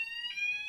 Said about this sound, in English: Sorry, that's a fire alarm